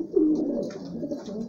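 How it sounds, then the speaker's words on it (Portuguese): A pigeon in a loft coos close by, a soft low throaty call rolling for about a second and a half with faint rustling behind it. "a pomba que tá chocando esse ninho aqui"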